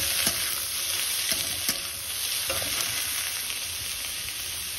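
Chopped bottle gourd hits hot oil already seasoned with cumin and dried red chilies, giving a loud, steady sizzle with a few faint clinks from stirring. No one talks.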